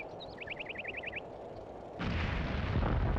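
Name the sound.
artillery fire in video game Combat Mission: Beyond Overlord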